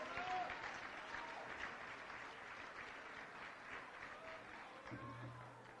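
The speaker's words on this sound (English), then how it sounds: "Let's give Michaela Mapes a big round of applause" A gala audience applauds the evening's auctioneer at a Team Jack benefit, a soft, steady, somewhat distant patter of many hands with faint crowd murmur beneath.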